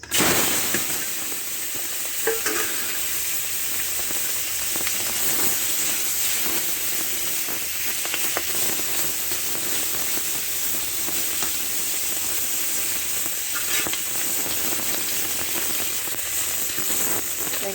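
Fish fried in hot oil in a wok over a smoky wood fire gives a steady, close sizzle and crackle that runs unbroken throughout, with no voices over it.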